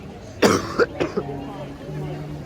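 A couple of sharp coughs close to the mic, followed by a softer throat-clearing burst, then quiet background hum.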